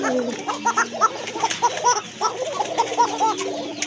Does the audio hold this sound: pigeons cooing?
yes